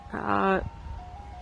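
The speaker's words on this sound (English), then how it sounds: "Listen, do you hear it? The ice cream truck." An ice cream truck plays its jingle, a brief tonal melody heard at moderate volume outdoors, followed by faint background noise.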